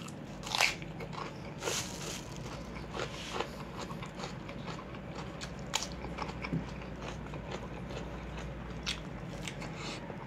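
Crunchy, wet chewing of trout backs and boiled jacket potatoes, close to the mic, with repeated bites and crackling crunches at an irregular pace and no talking.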